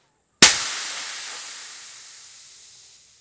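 High-pressure air purged from the fill line of a Hatsan Flash Pup .22 PCP air rifle: one loud, sharp burst that tails off into a fading hiss over about three seconds, close and alone.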